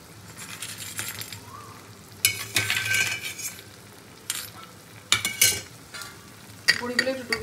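Lentil dumplings (bori) go into a simmering vegetable curry in a pot, giving several short bursts of stirring, sizzling and soft utensil clinks over a quiet bubbling background.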